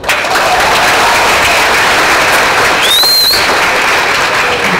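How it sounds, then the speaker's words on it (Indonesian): Loud, continuous audience applause for Jakarta Governor Ahok at a public lecture during a Muhammadiyah congress, a dense unbroken roar of clapping with a brief whistle-like tone partway through. "Tepuk tangan dulu, Pak."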